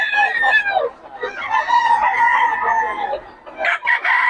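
A pumpkin sweater gamecock rooster in Bocaue crows loudly and close by, one drawn-out crow framed by shorter clucking calls.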